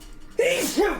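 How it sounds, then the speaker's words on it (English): A forceful sneeze bursts out close to the mic, a loud explosive blast with a voiced wail trailing into a second rising cry. "violent sneezes"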